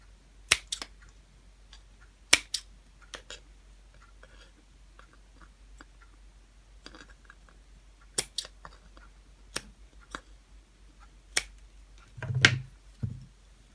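Scissors trim a ribbon bow on a pumpkin fall decoration, giving sparse, sharp snips spaced a second or two apart in a quiet room, with a soft rustle of material near the end.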